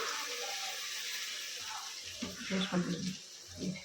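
Cooked goat head curry is poured out of a cooking pot: a soft continuous liquid hiss, then a few louder sloshing pours and splashes near the end.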